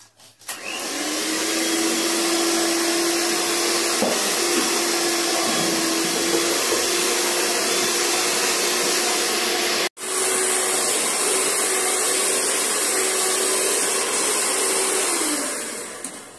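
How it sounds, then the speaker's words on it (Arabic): An electric hand mixer beats eggs into biscuit dough flavored with orange, running as a loud, steady whir for about fifteen seconds with a brief cut in the middle, no voices over it. "هنحط البيض كده عليهم ونضرب تاني، ونبدا ضرب من جديد."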